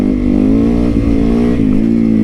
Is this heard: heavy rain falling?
no